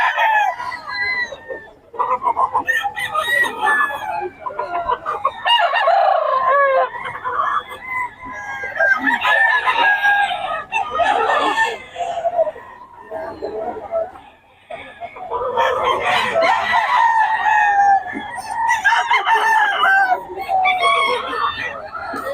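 Many gamecocks and hens at a rooster seller's in Bocaue crowing and clucking over each other in repeated overlapping calls, close and loud, with people talking throughout.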